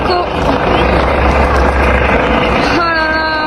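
Helicopter hovering overhead above a protest of angry farmers in France, a loud, steady rotor and engine roar that stays constant throughout, with voices faintly under it.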